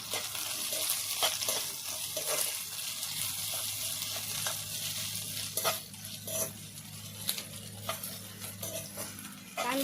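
Sliced onion sizzles and is stirred in a pan with garlic and curry leaves, a steady fry with frequent scraping and clinking of a spatula against the pan.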